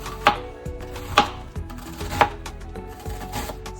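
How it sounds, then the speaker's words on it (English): A knife chops through a large onion in a home kitchen, with three sharp, evenly spaced board strikes and softer cuts between them, close and clear with no talking. "So just some chopping of the onion."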